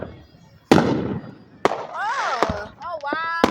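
Fireworks bursting outdoors: several sharp loud bangs a second or so apart, with whistling and crackling between them and excited voices talking over the show.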